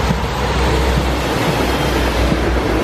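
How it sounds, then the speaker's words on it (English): A small gasoline-powered train passing close by, heard as a loud, steady broadband rumble with heavy wind buffeting throughout. "Look, a train coming. It's only a small one, and it's only one that's operated with gasoline."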